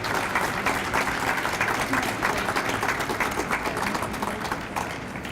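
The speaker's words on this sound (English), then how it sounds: "Let's give them one more big round of applause." An audience at an Asian Pacific Heritage Month celebration gives awardees a big round of applause, continuous crowded clapping that holds steady and loud from start to finish.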